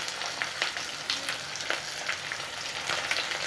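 Dried red chillies, shallots and curry leaves sautéing in oil for okra poriyal, a bright steady crackling sizzle close up with light stirring scrapes, no speech.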